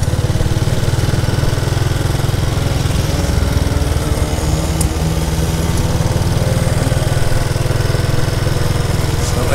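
Classic motorcycle engines run close by on a group ride, a loud, continuous droning rumble with steady throb and no pauses throughout.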